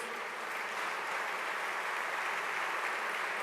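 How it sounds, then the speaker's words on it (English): Sustained audience applause fills a Yamaha press event, a dense even wash of many hands clapping without pause, fairly distant and steady throughout. "Big round of applause, please, for Mikel."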